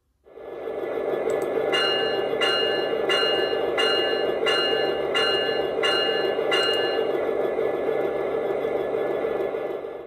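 Bell from a DCC sound decoder fitted to a Bachmann Evening Star model locomotive, ringing in about eight evenly spaced strikes over a steady hum of loco running sound, close and fairly loud with no talking.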